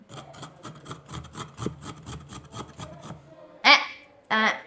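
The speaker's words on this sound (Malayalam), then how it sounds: "നമ്മൾ തേങ്ങ ചേരുവാൻ പോകുന്നത്" A coconut is grated by hand, a quick run of rhythmic scraping strokes close up, followed by two brief louder sounds.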